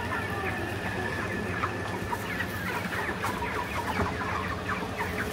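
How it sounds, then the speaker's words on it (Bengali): Many chickens kept at a home poultry farm cluck continuously in a dense, steady chorus, with faint human voices in the background. "দেখতে পাচ্ছেন অনেকগুলো মুরগি"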